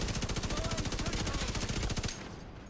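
Rapid automatic gunfire in the video game The Division 2, a fast even burst of shots lasting about two seconds before cutting off into quieter game ambience.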